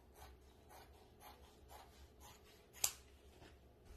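Scissors cut through fabric for pillows with quiet, close snips that repeat about twice a second, and one sharper click stands out near the end.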